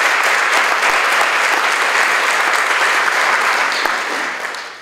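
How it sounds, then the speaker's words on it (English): Loud, sustained applause from an audience at a high school grand opening ceremony, dense clapping throughout before tapering off in the final second. "Please give them a round of applause."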